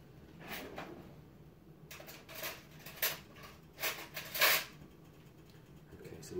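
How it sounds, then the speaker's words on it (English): Rummaging in a kitchen for a spoon: a drawer slides and knocks, cutlery clinks and rattles in several brief bursts, close and moderately loud with quiet gaps between. "Let me get me a spoon."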